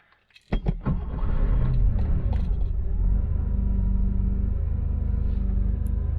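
A 1982 Porsche 911SC is started after a few key and door clicks, then settles into a loud, steady, close engine rumble from inside the car.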